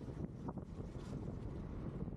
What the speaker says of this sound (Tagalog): Ito na yung sobrang hangin na part.